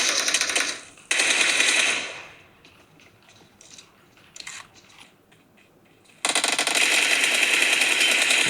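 Bursts of automatic gunfire in a mobile shooter game played on an Oppo Reno13 Pro phone: two loud, dense volleys at the start, scattered quieter shots in the middle, then a long sustained burst to the end.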